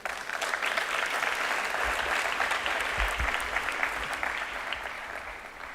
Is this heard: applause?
yes